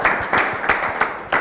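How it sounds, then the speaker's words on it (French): A handful of sharp claps, about five, in an even slow rhythm from a small group, fairly close and with no talking over them. "On les applaudit quand même"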